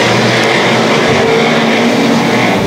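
Modified race cars roar around the track at Evans Mills Raceway Park in a loud, continuous, distant-sounding engine drone that holds steady and saturates the scene with no breaks.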